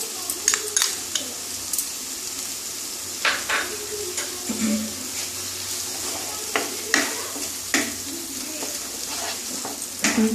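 Poppy seeds and mustard fry in a pan for a spiced aubergine dish while a spoon stirs them, with soft sizzling beneath irregular scraping strokes and a few louder knocks against the pan.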